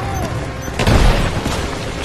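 Short, loud burst of video game gunfire with a heavy boom near the middle, dense and close, with no talk heard.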